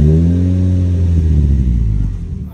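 A 1993 Toyota Corolla AE101 with a 4A-GE engine idles low and throaty through a 2.5-inch exhaust, holding a steady rumbling drone before settling and fading at the end.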